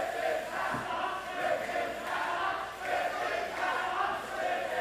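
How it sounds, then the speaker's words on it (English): Wrestling fans chant together in an indoor arena at a live show, a dense, steady roar of many voices rising and falling in waves without a break. "Freddie Fantastic does not like what the fans are chanting now"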